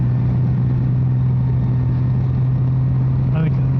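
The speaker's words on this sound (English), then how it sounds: "So I'm riding a 23 Honda Goldwing Tour." A 2023 Honda Goldwing Tour motorcycle cruises along a mountain road, its engine a steady low drone blended with loud wind rush, continuous and close, with a faint tonal squeal near the end.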